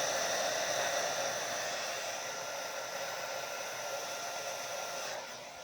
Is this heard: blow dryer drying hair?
yes